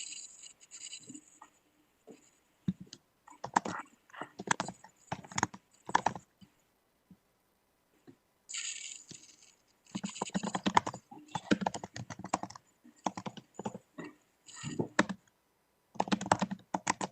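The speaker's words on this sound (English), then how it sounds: "Someone is an aggressive typer." Heavy, forceful typing on a computer keyboard, with dense bursts of rapid loud keystrokes separated by short pauses, close up and without speech.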